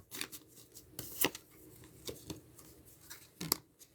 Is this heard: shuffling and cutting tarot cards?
yes